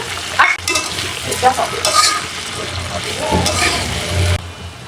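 Prawns and green chilies frying in a pan, crackling and sizzling steadily while a utensil stirs and scrapes with irregular clatters, close up.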